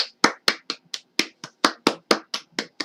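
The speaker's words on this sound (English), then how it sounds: "Give myself a big round of applause." One person claps for himself, about a dozen sharp, dry hand claps in a quick, slightly uneven rhythm, close and loud with no talk.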